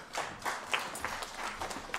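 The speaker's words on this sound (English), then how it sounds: "you can also give her another round of applause" Conference audience applauding a speaker, a steady wash of many hands clapping at moderate distance with no single dominant clap, filling the whole moment.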